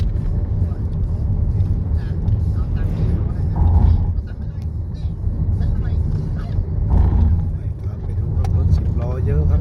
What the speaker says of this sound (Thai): สิบล้อสวนมาอีกหลายคันพอสมควรครับ ต่อเนื่องกัน เยอะมากครับ